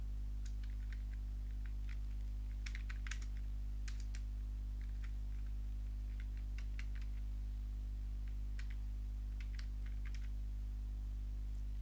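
Keys clatter on a computer keyboard in irregular bursts of close clicks with short pauses between, over a steady low electrical hum.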